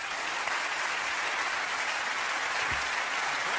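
A comedy club audience applauding to welcome comedian Markus Barth, dense, steady clapping that fills the room at an even level throughout.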